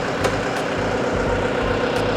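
A Yanmar 348a tractor's diesel engine chugs steadily at close range as the machine starts rolling forward in gear, a low rhythmic rumble with a couple of brief higher clanks.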